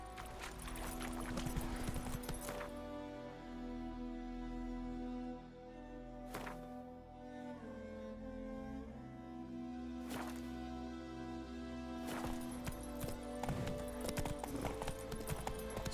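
Roach the horse galloping in The Witcher 3, a steady run of clip-clop hoofbeats that carries the whole stretch, with a brief whinny, game music and ambience underneath.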